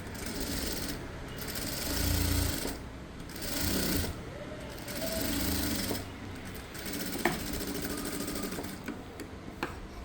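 Sewing machine stitching a three-piece frill nightie, running in several short bursts with pauses between, close and steady, with light background noise and no clear talk.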